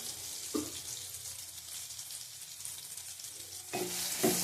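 Turmeric and Kashmiri chili powder sizzle steadily in hot oil in a pan for a bean dish, with a couple of louder scraping stirs near the start and end.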